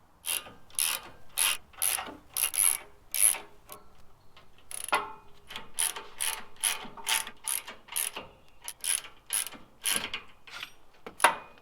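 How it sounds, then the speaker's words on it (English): Hand ratchet clicking rapidly while tightening bolts on a Toyota 4Runner winch bumper, bursts of sharp close ticks in quick repeated strokes with short pauses between, no talking. "then we'll go ahead and tighten up"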